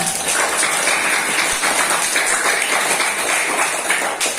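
Children clapping hands together at a Quran study session about the Prophet's birth, a steady, even patter of many small hands that continues without a break from start to finish.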